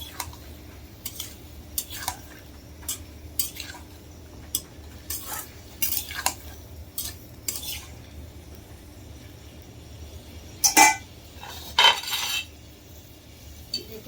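A utensil scrapes and clinks against a pan while cauliflower, potato and tomato are stirred and fried, giving sparse, irregular metallic taps and scrapes over a quiet background hiss.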